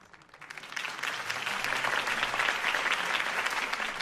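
Crowd applause after a political campaign speech in the video game Batman: The Telltale Series: clapping swells quickly from quiet into a steady, dense ovation that holds to the end.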